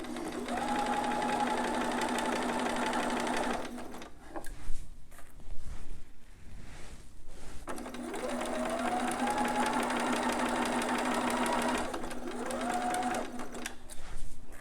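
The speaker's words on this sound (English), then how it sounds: "I'm going to do a back stitch." A sewing machine runs in two long, steady bursts through fabric with a brief pause between, whirring close and loud, with a speeding-up whine near the end as it back stitches.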